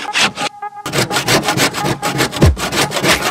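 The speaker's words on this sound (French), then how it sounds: "C'est pour ça que je vais ramener la scie sauteuse moi." A jigsaw cuts through small wooden planks with a loud, rapid, rhythmic rasping buzz, briefly pausing early on before resuming its pulsing strokes close by.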